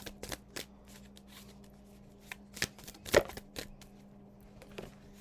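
A deck of playing cards being shuffled close by, with a series of quick riffling bursts and a sharper flutter in the middle, no talk over it.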